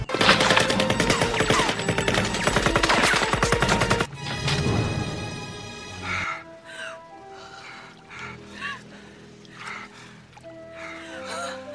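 Rapid war-film gunfire from Vietnamese soldiers, a loud dense burst of automatic shots for about four seconds, then dropping to scattered softer sounds with faint voices and background tones.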